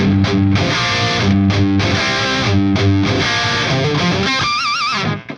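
A loud, heavily distorted electric guitar chugs out a riff in repeated bursts, ending on a wavering, bent sustained note.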